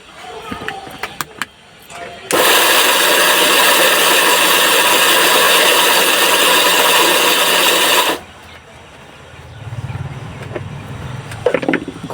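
A home grain grinder milling animal feed runs loud and steady for about six seconds, a dense continuous roar that starts and stops abruptly, with quieter handling noises before and after.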